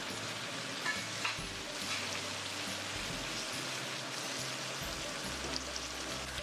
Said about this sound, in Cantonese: 我哋每面煎大概3到4分鐘啦，令到豬扒兩面金黃